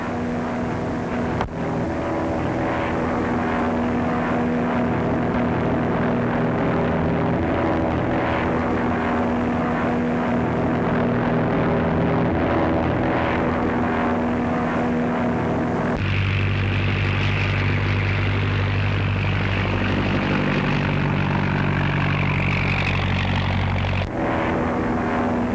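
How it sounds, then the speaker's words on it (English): A propeller airplane drones steadily overhead in a 1935 film, a loud continuous engine roar that deepens and grows heavier partway through, with no talking. "I know the plane."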